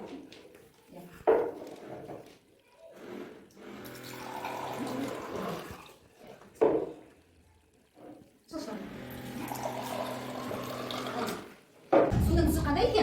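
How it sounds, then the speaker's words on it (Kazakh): Water pours from a homemade water-saving device in a classroom demonstration for children, flowing in two sustained stretches split by quieter gaps and short clattering bursts, with voices faintly present. "Қараңдаршы балалар, бұл құрылғы өзімен су ағады."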